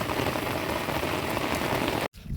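Heavy monsoon rain pours down in a steady, dense roar of drops on surfaces close by, broken by a sudden brief dropout near the end before the downpour resumes.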